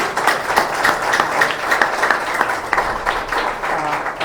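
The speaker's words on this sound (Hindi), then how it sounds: "इनके लिए फिर से एक बार जोरदार ताली।" Congregation applause at a Sunday evening church prayer service, a steady, full round of hand clapping from many people, close and sustained throughout with no talk over it.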